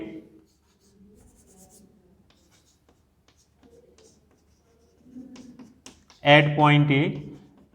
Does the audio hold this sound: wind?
no